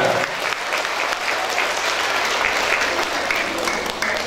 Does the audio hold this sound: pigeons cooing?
no